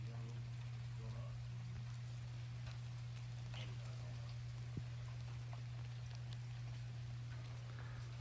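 Steady rain falls in an outdoor yard where pet ducks forage in the wet weather, a dense, even patter of drops with a constant low hum underneath.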